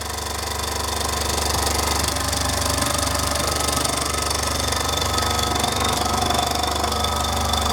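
A Mamod MM2 toy steam engine with a flat bed runs steadily up close, giving a rapid, continuous mechanical chuffing and rattling with a low hum underneath, loud and unbroken for the whole stretch with no voices.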